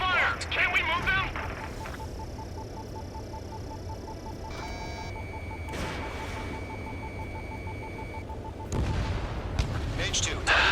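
Anti-aircraft guns firing in the video game Ace Combat 7, a low, continuous rumbling barrage with booming bursts and mechanical tones, heavy throughout, under radio-style voices speaking.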